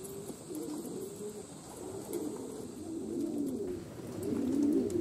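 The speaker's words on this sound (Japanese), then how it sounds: "その水たまりをめがけて鳩が集まってきました" Pigeons cooing repeatedly at a rooftop rain puddle where they gather to bathe, a steady low murmur of overlapping coos that swells toward the end, with faint chirps and outdoor ambience.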